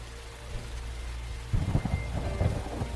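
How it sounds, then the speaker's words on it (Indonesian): Heavy nighttime rain pours steadily in a dark storm, and after a quieter start a close, deep rumbling roll of thunder swells in and continues to the end. "Deras hujan disertai petir menghiasi suasana gelap di malam itu"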